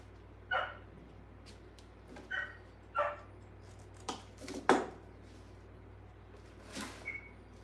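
A dog barks in short bursts, about six or seven sharp barks spaced irregularly, fairly close, with a steady low hum in the background.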